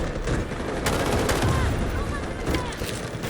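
SG552 rifle gunfire in the Delta Force video game: loud, rapid automatic bursts filling the moment, with a voice talking over the shooting.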